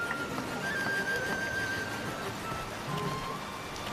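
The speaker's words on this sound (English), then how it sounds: "So, rain. Cool." Rain in a video game falls as a steady, soft hiss of drops that fills the whole stretch evenly, with faint game tones in the background and no talk.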